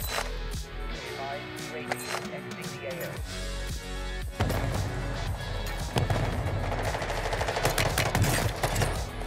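Pistol shots in Warzone ring out in quick bursts of sharp cracks amid game clatter, with a player talking excitedly over the action.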